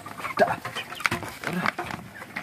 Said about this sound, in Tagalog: Ang akong mga manok diri sa bukid.